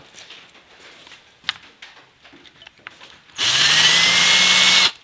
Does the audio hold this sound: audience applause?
no